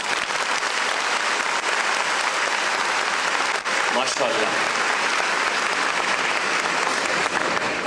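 Newly admitted students from Punjab at a UET Lahore orientation ceremony give loud, steady applause for several seconds, with a single voice briefly speaking over the clapping.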